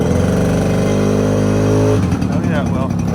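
A Suzuki ALT 50 three-wheeler's small engine revs up near the microphone with a buzzing, rising whine that then drops off as a voice talks over it.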